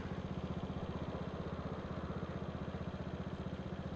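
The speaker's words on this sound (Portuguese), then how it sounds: "Só acelerar a motoca" A motorcycle engine at a traffic light on a wide city avenue, heard as a faint, steady rhythmic putter at idle with a low chugging pulse and no clear revving or talking.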